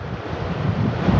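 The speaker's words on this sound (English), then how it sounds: "Wind's really getting up, isn't it" Strong wind blowing hard outdoors at a hunting camp, a loud steady low roar buffeting the microphone, rising slightly toward the end, with no voices.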